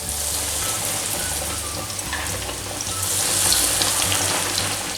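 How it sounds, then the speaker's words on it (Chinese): Breaded chicken cutlets deep-frying in hot oil, a steady close bubbling sizzle that swells slightly toward the end. "把最后2块也放进锅中炸。"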